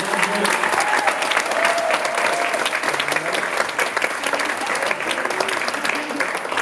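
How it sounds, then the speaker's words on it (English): Loud, dense applause at a student film festival award night for the winners, a large audience clapping continuously and close, with some cheering voices blended into the roar. "Give a round of applause for all the winners tonight,"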